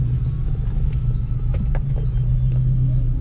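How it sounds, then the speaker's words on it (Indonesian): Cars idling and creeping in a weekend traffic jam just outside the Ciawi toll gate near Bogor, with a loud, steady low engine drone and a few faint higher clicks and horn-like blips over the rumble. "ini kita baru keluar gerbang tol Ciawi dan ini macet"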